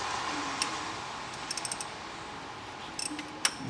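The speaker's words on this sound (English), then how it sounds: "You see it now, you heard that click. That tensioner's gone fully back." Timing belt tensioner on a Volkswagen Golf letting go in a garage, giving a few small sharp metallic clicks and ticks over a steady low background hum, close but faint.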